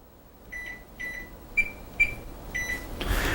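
Several short electronic beeps from a kitchen timer sound one after another at an uneven pace, close and fairly clear, followed by a brief soft rustle at the end.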